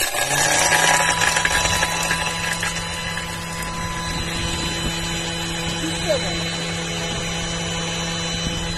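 A Thermomix grinds sugar into icing sugar at high speed for about ten seconds, with a loud whirring roar at the start that eases into a steadier hum, while someone speaks French over it.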